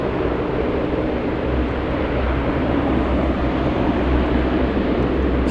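A London Air Cargo plane at LAX, heard as a loud, continuous broadband engine roar with a heavy low rumble, steady and unbroken throughout.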